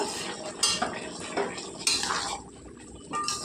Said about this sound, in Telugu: కిందకి పైకి అలా కలుపుకుంటే బాగా ఉడుకుతాయండి ముక్కలు